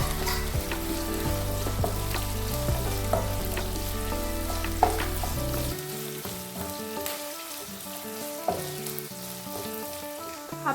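Ginger, garlic and kanthari chillies frying in hot oil for a fish pickle, giving a steady close sizzle with occasional stirring clinks that ease to a quieter crackle partway through.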